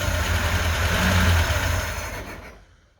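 A LADA 2104's engine idles steadily close by, then winds down and fades to silence as it is shut off.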